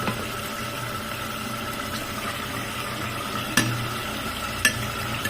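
Minced keema with two chopped tomatoes sizzling in a pan and being stirred, a steady broadband frying hiss throughout with two sharp scrape or clink accents from the spoon near the end.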